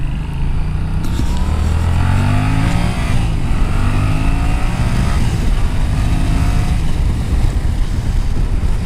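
Yamaha Tracer 700 motorcycle on a 2020 first ride, its engine pulling hard under acceleration with rising and shifting revs, loud and constant with wind rush over the microphone.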